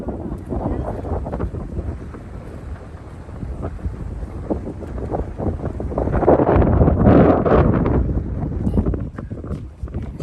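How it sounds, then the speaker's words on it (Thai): Strong dry wind buffets the microphone on a boat out on the water, roaring in gusts that swell loudest midway, while someone talks intermittently beneath the rumble. "ลมแห้งพัดแรงๆ"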